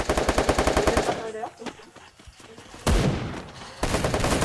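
Rapid automatic gunfire bursts in a multiplayer shooter video game, loud and dense at the start, dropping out briefly, then resuming with sustained rattling volleys near the end.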